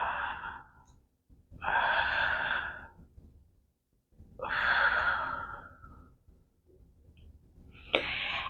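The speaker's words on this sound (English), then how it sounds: "I'll demonstrate this for you so that you can kind of see how the 3-part breath works" Slow, audible breaths from a three-part breathing exercise: a long airy exhale, then two more drawn-out breaths with quiet gaps between them, and a sharper intake near the end.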